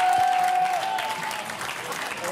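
Studio audience of a French television talk show applauds a guest named Billy, a steady wash of clapping that stays fairly even and tapers slightly toward the end, with a brief voice near the start.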